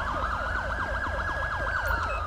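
Rapid yelping police siren from a patrol car in GTA 5, sweeping up and down in quick even cycles over a low idling engine hum, loud and close throughout.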